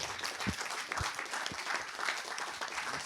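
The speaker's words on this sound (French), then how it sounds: "On peut les applaudir, s'il vous plaît." Audience applause fills a Paris premiere of the film "Entre Les Mots", a steady dense wash of many hands clapping at moderate distance for about three seconds.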